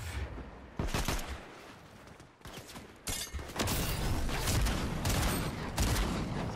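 Gunfire in the Fortnite video game from a Guardians of the Galaxy pack match: repeated loud bursts and volleys of shots, dense and continuous in the second half, with a brief quieter gap in between.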